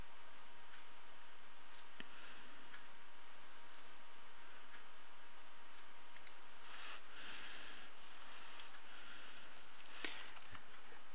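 Computer mouse clicks and typing while renaming a file, sparse faint ticking clicks scattered over a quiet room hum.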